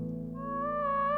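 A sine-like synth lead from the Diva preset Divinity enters with clean, sustained tones over a low pad, steady and close in a lo-fi production.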